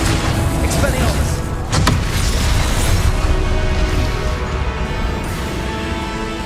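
An Expelliarmus spell cast in Hogwarts Legacy: a dense, loud rush of game noise with a sharp booming burst early on, under a steady mix of effects and voices.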